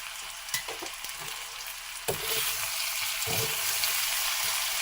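Raw mango chutney cooks in a pan with sugar added, a dense continuous sizzling hiss close to the microphone, growing fuller and louder partway through with a few soft knocks and stirring sounds, no voices.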